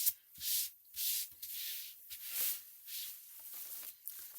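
Hand smoothing quilted backing fabric flat, soft repeated rubbing swishes in slow strokes, close and quiet, with no talking.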